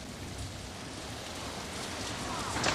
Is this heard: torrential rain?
yes